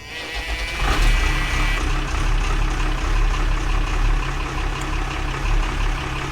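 A trawler's engine cranks and catches within the first second with a slight hesitation, then settles into a steady, loud, low rumbling idle that continues to the end.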